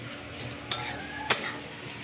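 Onions frying in a pan with bay leaf, cumin and a little sugar, a faint low sizzle under two sharp metallic clinks of a spoon against the pan.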